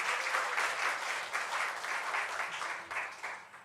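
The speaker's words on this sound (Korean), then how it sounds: "우리 박수로 환영하도록 하겠습니다" Church congregation applauding to welcome a deacon up to give his testimony, a steady, dense round of clapping from a room full of people, sustained without pause across the whole stretch.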